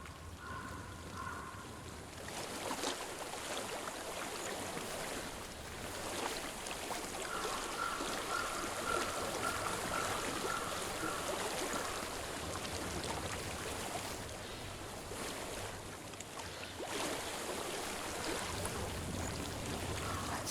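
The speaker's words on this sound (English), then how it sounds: "I hear water." A stream flows steadily in the Hellblade video game, its continuous soft rushing and trickling water filling the scene with a faint ambient tone behind it.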